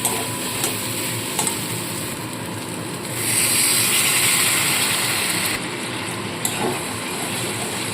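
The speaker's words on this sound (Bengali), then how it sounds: "এবার মশলার সাথে খুব ভালো করে মিশিয়ে নিয়ে আবারও সামান্য পরিমাণে জল দিয়ে কষাতে থাকবো।" Potatoes sizzle in a pan while being stirred with spices and a little water for a fish curry, a steady frying hiss punctuated by scraping strokes, with a brief louder sizzle burst midway.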